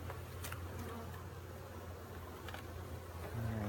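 Honeybees buzzing around an open hive box during an inspection, a steady close drone with a rising hum near the end, no talking.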